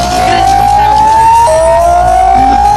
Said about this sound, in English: Blare of the tsunami sirens.